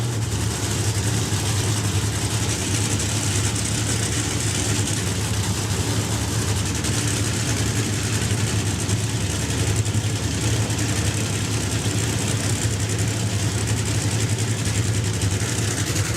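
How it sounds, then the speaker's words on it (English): Nitro-fuelled drag racing car engines idle loudly at a festival strip, a steady deep rumbling drone with a dense roar that holds without a break. "And here we go. The engines are firing up."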